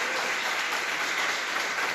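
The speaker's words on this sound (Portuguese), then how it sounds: "Dê um glória a Deus, aplauda o Senhor." A church congregation applauding at a pastor's twentieth-anniversary service, dense continuous clapping filling the room at steady volume throughout.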